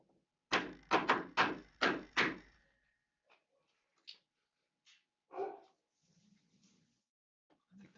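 A dog barks five times in a quick, even run, close and loud, followed by a few faint scattered knocks and small sounds in a quiet room.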